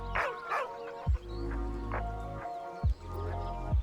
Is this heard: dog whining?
yes